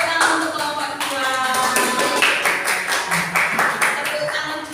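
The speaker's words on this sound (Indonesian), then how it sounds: "Tepuk tangan untuk kelompok 2" A classroom of students claps for a group after a lesson discussion, a dense steady patter of many hands filling the whole stretch, with a voice or two mixed in.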